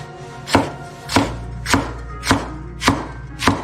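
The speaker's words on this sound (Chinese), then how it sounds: "然后辣椒，我们也把它切碎。" A knife chops chili peppers on a board for a chicken curry, six crisp, evenly spaced strikes landing about every half second, close and clear with no voices.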